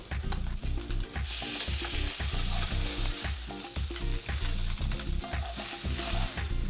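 Sea mullet fillets fry in hot oil with a loud, steady sizzle and crackle, broken by repeated stirring and scraping sounds close by throughout.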